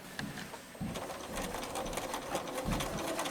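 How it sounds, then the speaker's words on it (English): Sewing machine stitching down a ruffled window valance curtain, a steady close mechanical whir running continuously after a brief start, with no talking. "we're going to stitch right along there and stitch it down"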